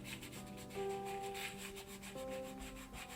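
Fingers rub wet paper off an image transfer, a soft, close, repeated scrubbing friction that continues steadily and quietly with no talking.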